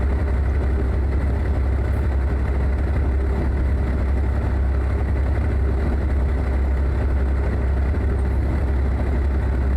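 A Ford F450 pickup engine idles in American Truck Simulator with a steady, low, rumbling drone that holds at an even level throughout, with no talk over it.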